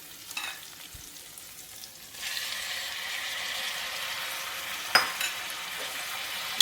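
Green chillies frying and being stirred with onions in a pan for a coconut-milk fish curry, a steady close sizzle that swells partway through, with occasional scrapes and clinks of the stirring spoon.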